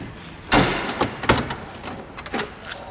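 Large door on a 1961 Chevrolet Corvette convertible being pushed shut, a firm thump followed by a couple of lighter knocks and latch taps, close and fairly loud.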